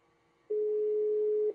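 A single steady electronic tone sounds for about a second over a quiet line, like a phone signal that fails to connect.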